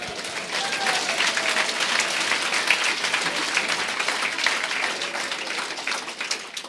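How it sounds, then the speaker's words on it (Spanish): Congregation at a church service applauding together, a dense sustained wash of clapping hands that holds steady throughout at moderate loudness. "Fuerte aplausos a Jesús."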